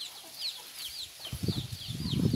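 Chickens cluck and chirp near a mango tree at dusk as hens climb up to roost with their chicks, with short repeated calls rising into a busier, louder stretch of clucking toward the end.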